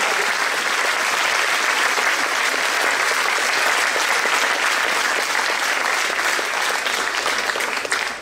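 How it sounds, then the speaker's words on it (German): Loud, dense applause from a large crowd at Schwörtag in Reutlingen, steady and sustained for several seconds before tapering off at the very end. "Ein riesiger Applaus für alle Akteure dieses Schiertages."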